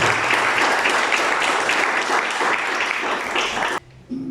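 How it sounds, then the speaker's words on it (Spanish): A church congregation claps together in sustained, fairly loud applause that carries on steadily before cutting off abruptly near the end. "Denle el aplauso al Señor"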